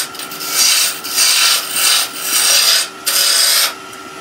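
A wood blank being roughly shaped to round with a tool on a lathe, giving loud, rhythmic rasping scrapes in repeated strokes close up, each pass about half a second to a second long.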